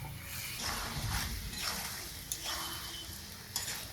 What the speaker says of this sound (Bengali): ফোড়নের পেঁয়াজের সাথে ভাজা ভাজা করে নেব